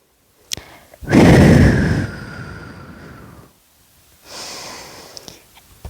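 Deep breathing during a kids' yoga stretch, a long loud close exhale followed by a quieter second breath after a pause, with a few small clicks around it.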